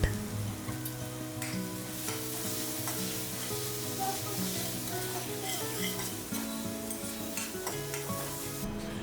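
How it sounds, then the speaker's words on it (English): Chopped tomatoes with turmeric, red chili powder, coriander, garam masala and salt being stirred in a hot pan, a steady sizzle with scraping stirs throughout, over quiet background music. "After that, I'll add chopped tomatoes and general spices."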